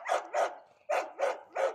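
A dachshund puppy gives five close, sharp barks in a quick uneven rhythm, with brief whiny edges and short silent gaps between them.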